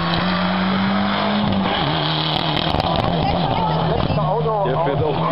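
A WRC2 rally car drives past on a stage of the 2013 ADAC Rallye Deutschland, its engine note loud and steady before rising and falling as it passes, with spectators talking over it.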